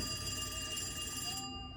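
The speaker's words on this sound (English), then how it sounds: "Here's our phone calling." A telephone rings with an incoming call, a continuous bright electronic ringtone with layered tones, steady and moderately loud, stopping shortly before the end.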